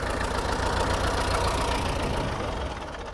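A T-40 diesel tractor engine idling steadily with a low, knocking rumble, close by and loud, easing slightly at the end.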